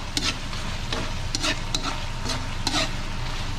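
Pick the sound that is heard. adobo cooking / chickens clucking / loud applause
adobo cooking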